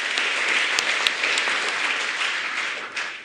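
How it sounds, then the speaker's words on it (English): A crowd at a scholarship award event applauds a speech with steady, dense clapping that holds at an even level throughout. "Can you give a clap to this speech,"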